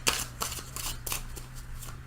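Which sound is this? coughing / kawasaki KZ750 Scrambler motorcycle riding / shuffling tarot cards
shuffling tarot cards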